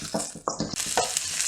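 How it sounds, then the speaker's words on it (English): Ginger, garlic and chili stirred in hot coconut oil in a wok: a short run of rhythmic scraping strokes over a steady sizzle, close and fairly loud. "Give a good stir."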